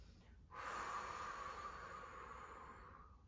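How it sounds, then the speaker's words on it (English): A single deep, drawn-out breath taken during a hip mobility stretch, starting abruptly with a rushing airy sound that holds steady for about three seconds, quiet and close. "Let's do 2 more breaths."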